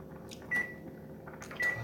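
Two short, high-pitched electronic beeps from a kitchen timer being set, spaced about a second apart, close and clear over a low steady room hum.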